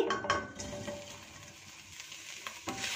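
Kasuri methi roasts in a pan over medium-low heat, giving a faint sizzle with a few clinking spoon scrapes and stirring sounds, soft and close.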